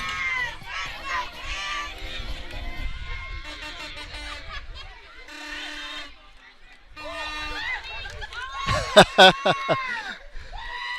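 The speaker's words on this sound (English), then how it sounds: "The crowd goes wild on the Woodsboro side, guys." A crowd at a varsity softball game erupts after a home run, with cheering, children's shouts and screams rising to a loud burst near the end, mixed with speech throughout.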